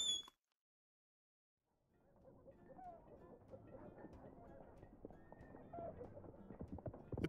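Horse hooves clip-clop in the video game Repella Fella. The steady, faint rhythmic steps begin after a short silence and continue evenly to the end.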